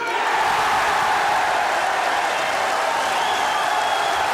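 Capacity crowd at the Crucible Theatre roaring with sustained applause and cheering at the 1986 World Snooker Championship final, a loud, continuous wash of clapping with occasional whistles and whoops.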